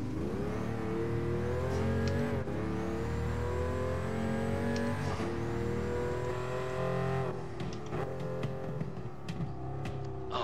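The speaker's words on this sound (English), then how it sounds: "Not so much the engine sound, but the dump valve and the popping, you know?" A race car in the Gran Turismo Sport video game revs and shifts through the gears, its engine note rising and falling, with sharp exhaust pops and dump-valve bursts near the end, loud and close with no talk.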